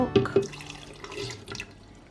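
Skimmed milk being poured into a container for a banana hair mask, a brief close liquid gurgle and splash with a few soft drips.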